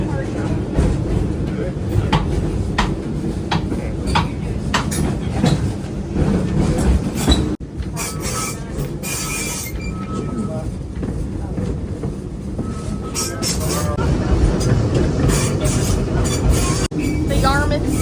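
An open trolley car rolls on rails around a loop, with a loud continuous rumble and rattling wheels, close by throughout; people talk over the ride noise.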